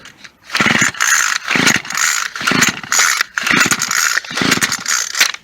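A small two-stroke engine on a scrap-yard weed wacker, primed and choked, sputters into life and runs with a loud, buzzy, uneven rasp that surges and dips repeatedly, close up and filling the whole stretch.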